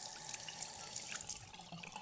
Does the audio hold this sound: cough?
no